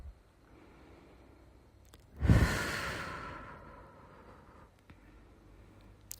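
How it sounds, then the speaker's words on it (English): A single deep breath during a guided breathing exercise, drawn in through the nose and released through the mouth, heard as one loud, close, rushing exhale that slowly fades into quiet. "inhaling through the nose. Exhaling through the mouth."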